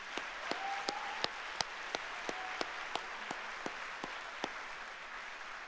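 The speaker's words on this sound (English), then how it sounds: "Let's give everybody a round of applause" Applause from the audience at a city's State of the City address in Chandler, a steady wash of clapping across the hall with a few louder claps popping out, no talk over it.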